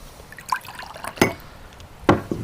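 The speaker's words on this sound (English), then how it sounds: "So it's prime time to add your water" Water poured into a container holding chlorine dioxide drops makes a few sparse, close drips and splashes, with brief liquid sounds spaced apart and no talking.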